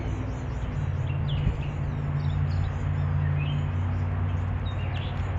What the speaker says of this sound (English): I can hear those birds chirping away.